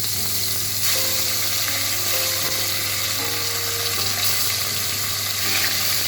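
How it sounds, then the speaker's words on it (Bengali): Small fish frying in hot mustard oil in a pan, a continuous loud sizzle with crackling hiss throughout, steady and close. "এখন আমি মাছগুলোকে ভেজে তুলে নেব।"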